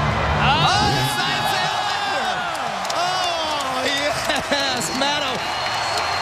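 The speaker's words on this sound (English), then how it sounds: "the Staples crowd going wild" Staples Center crowd at the X Games Moto X Best Trick contest roars and whoops wildly, a dense, sustained wall of cheering with shrill whistles and yells throughout.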